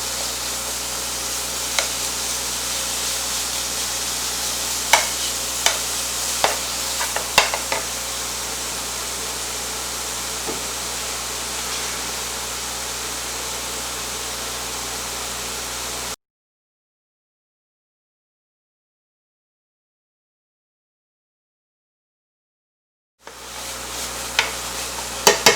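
Chorizo sizzles steadily in a hot pan, a dense frying hiss with a few sharp pops and utensil clicks, then cuts to silence before the sizzle returns briefly at the end.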